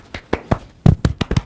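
A hand pats the body in a brisk self-massage, giving about eight soft, close slaps in an uneven rhythm, with a brief gap before a quicker cluster.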